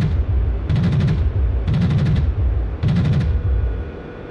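Cannon fire from a MiG-19P in the DCS flight simulator comes as three loud, close bursts of rapid rattling shots, each about half a second long and separated by brief pauses, over a constant deep engine rumble.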